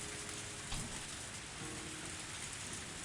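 Heavy rain pours steadily in a dark swamp beside a small ritual shrine, a dense continuous hiss with no gaps, from the Higurashi video game.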